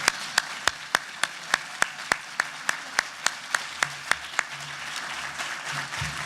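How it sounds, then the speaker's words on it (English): A conference audience applauding: steady, evenly spaced claps ringing out in a large room, then fading into a softer murmur of applause. "I would maybe suggest that this deserves a standing round of applause"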